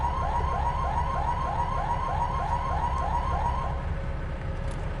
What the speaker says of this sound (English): I'll just get out of the coach until the alarm stops